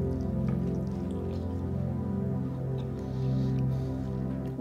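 Air-fried chicken coated in original hot sauce sizzles and bubbles steadily, a soft continuous crackle and drip-like popping over a steady low hum, close by with no talking.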